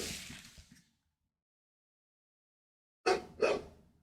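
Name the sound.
dog barking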